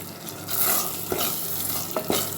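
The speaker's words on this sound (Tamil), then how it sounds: "நெய் ஊற்றிக்கலாம் உங்களுக்கு எந்த அளவுக்கு நெய் வேணுமோ அந்த அளவுக்கு ஊற்றிக்கோங்க" Ghee poured into a pot of black rice pongal and stirred, a soft sizzle under the scrape of a spoon against the pan, with a few distinct scraping strokes near the end; no talk.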